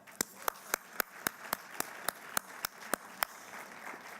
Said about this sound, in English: That deserves an enormous round of applause